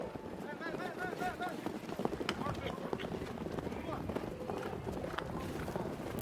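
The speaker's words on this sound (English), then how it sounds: "I'm going to let you guys hear the horses run by." Polo horses' hooves drum past in a rapid, rumbling gallop during a polo match, with wind buffeting the microphone and faint voices of players in the background.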